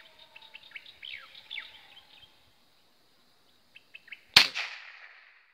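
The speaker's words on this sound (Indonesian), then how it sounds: "Manuk." Birds chirp and whistle in a tree during a hunting trip, a run of short descending calls followed by a few sparse notes, then a sharp loud crack that rings out and fades over the last second.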